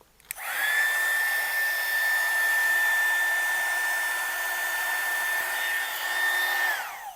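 A heat gun with a reflector attachment blows a steady, loud whirring hiss while shrinking tubing over AC power connections in a tube amplifier power supply, switching on sharply and running about six seconds before spinning down.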